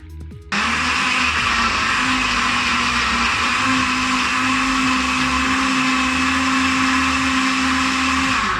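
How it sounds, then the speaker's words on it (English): Blender whirring through banana, ginger, apple and blueberry for a smoothie, starting abruptly after a brief quiet moment and then holding a loud, steady motor whine with churning underneath. "Okay, just blend this all together."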